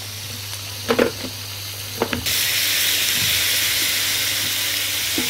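Chicken hits a hot pan and bursts into a loud, steady sizzle after a few quiet clinks and knocks, then keeps hissing evenly to the end.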